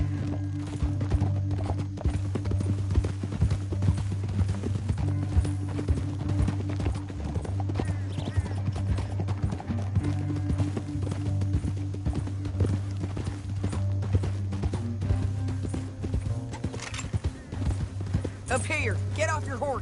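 Horse hooves clip-clopping in Red Dead Redemption 2, a continuous rhythmic run of hoofbeats with an occasional whinny, layered over a low game music drone and voices talking.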